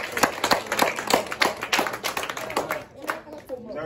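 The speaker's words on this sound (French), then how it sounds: "Donc il est venu nous rendre ici et on va l'acclamer." A crowd claps for a visiting foreign affairs minister at a youth gathering, a quick burst of close hand claps that thins out toward the end, with voices mixed in.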